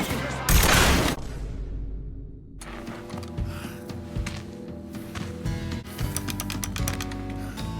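Gunfire in a crime action video game, a burst of loud shots up close followed by continuing rattling combat noise and background game sound.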